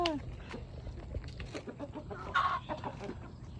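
Chickens cluck on an outing to see chickens, short soft calls scattered through a steady low background, with a brief louder call near the end.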